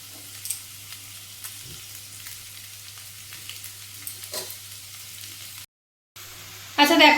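Maggi noodles stir-fried with vegetables in a pan give a low, steady sizzle with occasional stirring clicks, a brief dropout, then a sudden louder burst of frying near the end.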